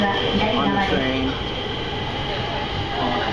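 A steady rumble and hum from inside a moving train carriage, continuous and moderately loud, with a person talking over it.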